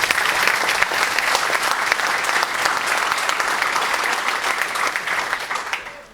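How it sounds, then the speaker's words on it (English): Full, steady applause from a large conference audience at the opening remarks of a security event, thanking sponsors; the dense clapping holds strongly then fades at the end. "So a great round of applause so they can hear you out there."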